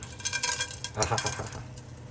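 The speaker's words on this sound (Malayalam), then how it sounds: "നെയ്യ് ഏകദേശം ചൂടായി വന്നിട്ടുണ്ട് നമുക്ക് അതിൻ്റെ അകത്തേക്ക് ഏലക്കായ ക്ലോ കുരുമുളക് ജീരകം" Cardamom, cloves, pepper and cumin sizzle softly in hot ghee, a steady low crackle with light stirring scrapes and clinks from a pan.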